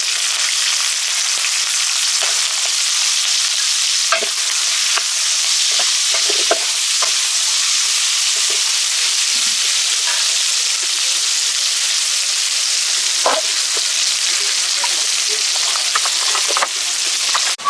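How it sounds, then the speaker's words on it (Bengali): Dried red chilies, bay leaves and chopped onion frying in hot oil left over from frying fish, giving a steady close sizzle with occasional light stirring clicks throughout. "গরম হয়ে গেছে, দিয়ে দিব শুকনো মরিচ তেজপাতা, সাথে দিয়ে দিব পেঁয়াজ কুচি।"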